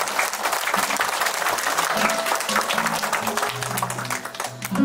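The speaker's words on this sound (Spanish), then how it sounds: "Fuertes aplausos, que se escuche" A crowd at a quinceañera celebration in Salt Lake City, Utah, bursts into loud, sustained applause. The dense clapping holds steady for several seconds, with background music faintly underneath.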